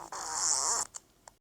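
A single drawn-out fart, loud and close, followed by two or three short faint sputters before it cuts to silence.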